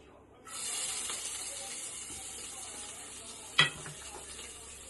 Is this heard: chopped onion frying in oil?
yes